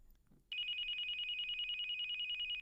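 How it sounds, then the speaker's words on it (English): Telephone ringing in an audiobook thriller, a loud, rapid, continuous electronic trill that starts suddenly after a brief quiet moment and rings steadily for about two seconds before cutting off. "Isn't that your phone ringing?"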